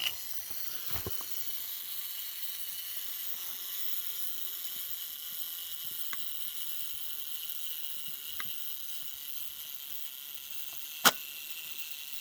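A faint, steady mechanical whir of a Zenit S film camera's self-timer running over a quiet background, with a few soft clicks and a sharper click near the end.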